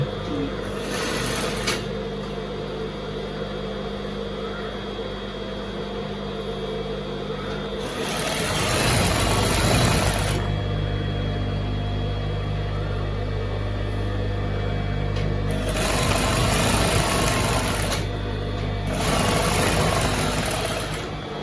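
A sewing machine stitches cloth sleeves in a few loud runs of fast whirring, with quieter pauses between them, while people talk nearby.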